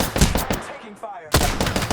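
Rapid bursts of automatic gunfire in a video game battle, two loud volleys split by a short quieter gap, with a brief murmur of voice in the middle.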